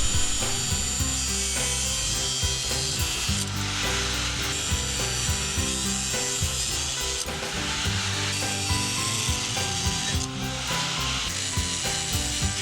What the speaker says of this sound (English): Now right here I'm coping it out. I'm putting a curvature to the pipe so that it'll match the 1-inch pipe.